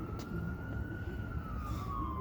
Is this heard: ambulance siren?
yes